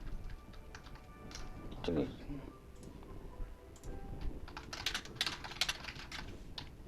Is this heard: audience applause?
no